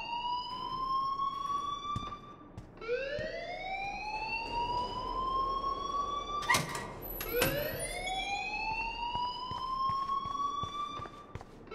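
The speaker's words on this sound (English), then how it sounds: "please turn off that alarm since that's your job." A school alarm in the video game Life is Strange wails in repeated rising siren sweeps, each climbing and holding before restarting every few seconds, steady and moderately distant, with no talk.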